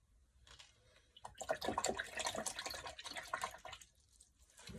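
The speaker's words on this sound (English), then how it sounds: "That lovely sound. Just add a blob of water in that." Water trickles and drips close up onto Desert Grey watercolour paint in a palette, a soft, uneven splashing and dribbling that swells and then fades, with no voices.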